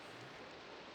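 Rainfall in a video game makes a dense, even wash of noise that stays steady and fairly quiet, with no voices.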